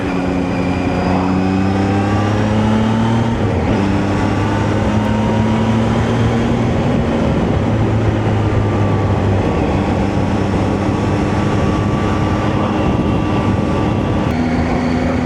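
Steady engine drone and rushing wind from a Zontes 703F adventure motorcycle with a 95 horsepower engine, being ridden at speed, with smooth rising and falling engine tones held under constant loud buffeting.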